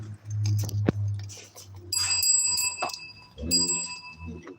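A handheld bell is struck a few times close by, bright ringing tones that linger and decay, with a person talking quietly around the rings.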